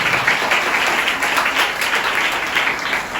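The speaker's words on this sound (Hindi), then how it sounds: "परमेश्वर के लिए जोर से ताली बजाइए।" A church congregation at a Sunday service claps loudly, a dense and sustained burst of applause that fills the room at steady volume throughout.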